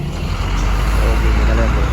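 Large trucks, including used racing-livery trucks and American-style rigs, rumble onto a big ship at a port, a steady loud engine drone with low throbbing under wind noise.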